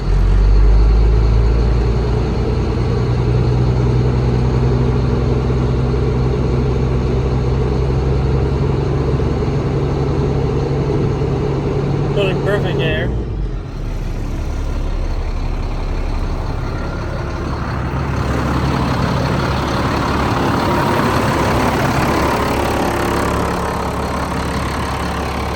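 A ramp truck's engine runs loud and close while it builds air pressure, a steady heavy rumble that dips briefly midway and then comes back slightly revved, with a hissing airy texture over the drone.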